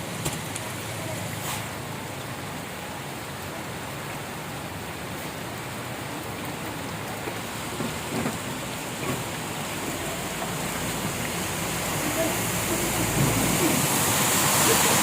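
Floodwater and rain on a flooded street make a continuous, dense rushing wash that swells slightly toward the end, with no clear talk.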